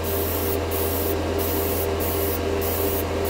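Dual-action airbrush spraying thinned metallic paint, a steady, close hiss of air and paint running unbroken throughout with a low compressor hum beneath, no talking.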